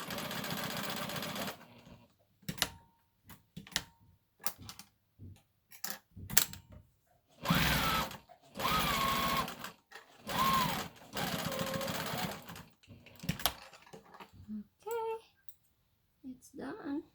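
Sewing machine stitching the bodice of a prom dress to its skirt, running in short bursts of varying length with pauses between, close and fairly quiet, with faint talk in the gaps.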